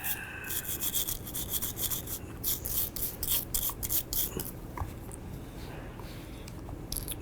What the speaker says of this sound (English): We want to brush it really good. Just scrub, scrub, scrub.